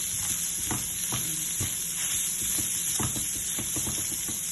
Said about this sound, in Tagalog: halu-haluin lang din para maluto siya ng sama-sama dyan